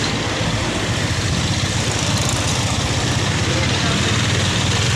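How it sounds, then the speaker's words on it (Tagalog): A brand-new Rusi Macho 175cc motorcycle engine idles steadily at close range, with a dense, even low-pitched throb that runs unbroken throughout. "Sinecheck natin yung ating motor para kung ayos umandar."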